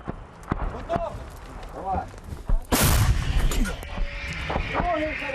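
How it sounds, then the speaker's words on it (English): Several heavy booms and sharp cracks of artillery fire ring out, one especially loud blast midway, with voices talking amid the commotion. "There's the sound of multiple explosions."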